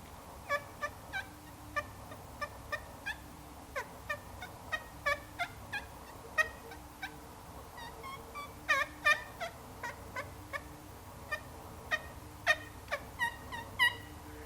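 Soft, short feeding clucks and purrs from turkey hens repeat irregularly and close by, clustering in quick bursts over a quiet background.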